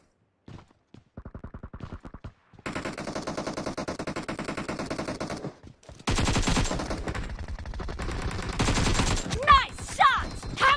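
Automatic weapons in PUBG Mobile Demolition Mode fire in rapid bursts, short volleys first, then long sustained strings of shots growing louder and denser, with a voice briefly heard near the end.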